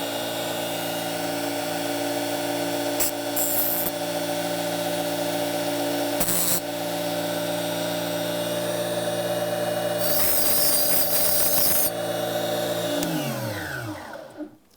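A powered sharpener grinds burrs off an oscillating multi-tool blade in a sustained, close, high-pitched whir. Brief harsher scraping bursts break in as the blade touches, and the motor spins down at the end.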